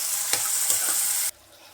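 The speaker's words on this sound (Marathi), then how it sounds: "त्यानंतर कांदा आणि टॅमॅटो टाकूया. बघू शकता फोडणीला कसा आवाज येतो, झणझणी." Onion and tomato hit hot tempering oil with a loud, bright sizzle, broken by a few stirring scrapes, before the sound drops away abruptly.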